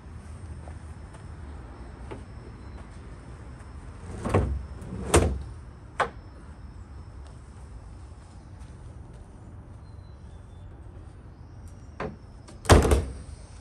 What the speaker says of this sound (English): So I'm just going to lock the shed up now.